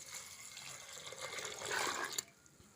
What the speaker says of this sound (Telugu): ఇలా కట్ చేసిన తర్వాత వాటర్ పోసుకొని కొడుక్కోవాలి.